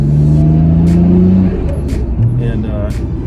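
A Nissan GT-R 'Godzilla' being driven, its engine holding a steady low hum with a rising tone early on, then settling and shifting, with a voice talking over it.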